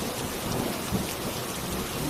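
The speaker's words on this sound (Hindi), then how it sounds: "बारिश शुरू हो गई।" Heavy rain pours steadily with low thunder rumbling underneath, a dense continuous storm wash with no voices, used as a sound effect in a Hindi village story.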